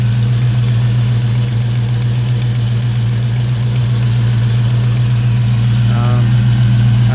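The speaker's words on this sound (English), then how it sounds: "You can hear that, but got a little bit of a noise on cylinder," A 1989 Ford Mustang LX convertible V8 idles loudly and steadily with a constant low rumble. The car has old headers and a suspected leak or noise at one cylinder, and a faint ticking sits on top near the end.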